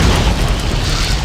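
Cannon shell explosion in the 1999 game Recoil, a single loud, deep booming blast filling the short moment with rumbling low end.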